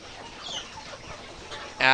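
Ready pullets on a poultry farm give soft, scattered clucks over a low background, ending in a sudden louder squawk from one nearby bird.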